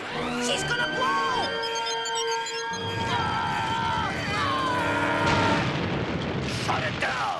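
A cartoon explosion in a laboratory scene starts as a rising, whining machine tone and swells into a loud, sustained rumbling blast with crackling noise.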